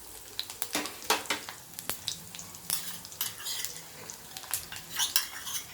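Peanuts and a spoonful of sesame seeds frying in a little oil, giving irregular close crackles and sizzling pops with occasional stirring clinks throughout.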